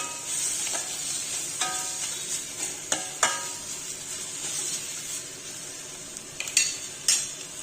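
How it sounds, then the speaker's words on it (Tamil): Tomato frying with salt in a pan while cooking broccoli soup, giving a continuous close sizzle with repeated spatula scrapes and occasional clinks against the pan, no voices. "மீடியம் சைஸ் தக்காளி ஒன்று அதையும் இதோட வதக்கலாம் நல்லா வதங்கட்டும்"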